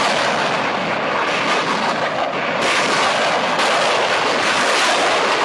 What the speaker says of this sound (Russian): реактивная система «Град» российской военной базы в Таджикистане огненным ковром с правого фланга укладывают выпущенные из пеналов снаряды карандаши